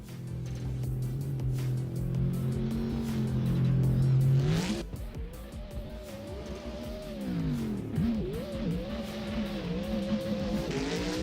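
A BMW drift car revs hard on a track with a steady high engine drone, then the pitch drops and wavers as the car slides, engine rising and falling through the slide, close and loud throughout.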